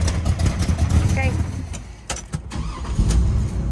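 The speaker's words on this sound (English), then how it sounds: "1970 Chevelle SS 396 big block, automatic car, convertible" A 1970 Chevrolet Chevelle SS 396 big-block V8 convertible with an automatic runs steadily up close, its deep low rumble continuous, with brief sharper bursts and a voice talking over it.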